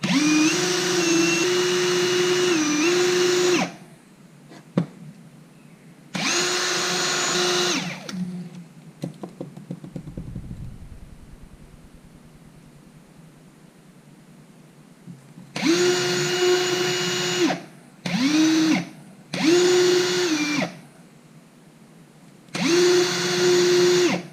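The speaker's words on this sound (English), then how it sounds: "So now we're gonna just polish it." High-pitched whine of a power tool polishing silver with brown precious-metal polishing compound, running in several loud bursts of a few seconds each with quiet gaps between, close up and without talk.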